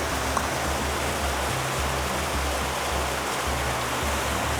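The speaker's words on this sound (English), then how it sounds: "This waterfall coming down." A waterfall pouring down over rocks fills the scene with a steady, dense rushing hiss that never lets up, while a low droning tone runs faintly underneath.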